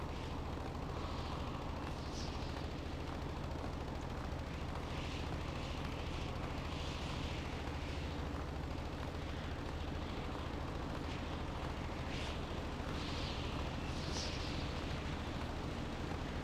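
Fireworks bursting in Stormworks, a continuous loud rumble of game explosions with repeated crackling pops and booms rolling over one another without pause.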